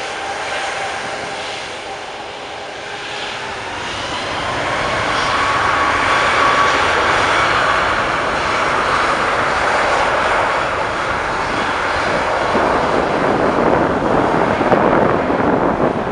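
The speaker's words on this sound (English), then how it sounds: "Here comes another plane" A jet airplane at Montreal Pierre Elliott Trudeau Airport at night, a loud broadband engine roar swelling and holding steady as it passes fairly close, with some wind buffeting the microphone.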